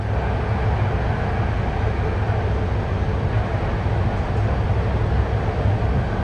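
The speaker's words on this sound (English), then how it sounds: "here comes a passing train" A BART train on the Orange Line in the San Francisco Bay Area gives a steady, loud, even rumble with no breaks as another train passes.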